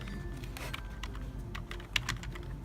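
Typing on a computer keyboard while filling in a registration form, a quiet, close run of irregular key clicks with a slightly louder tap near the end.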